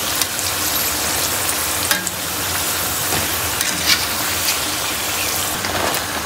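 Potato slices for aloo pakora chips deep fry in oil with a loud, constant crackling sizzle, broken by a few brief bubbling bursts and clinks, and no one speaks.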